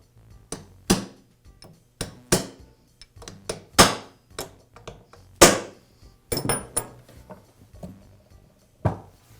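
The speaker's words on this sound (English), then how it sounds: "use a punch and hammer to secure it to the axle" Punch and hammer tapping a push cap onto a vacuum wheel axle during a repair: a dozen or so sharp metallic strikes at an uneven pace, close and loud.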